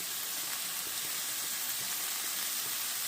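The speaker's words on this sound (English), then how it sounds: "I'm just going to fry up some ground beef with some onion" Ground beef and onion frying in a pan give a steady, even sizzle, moderately quiet and continuous, with no voices over it.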